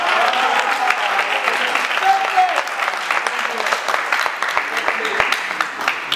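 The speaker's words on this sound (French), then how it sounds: "je vous demande d'applaudir encore à nous." An audience at a scientific body's election gathering claps for the newly elected leadership. The applause is dense at first, then thins into scattered claps as voices come in beneath it.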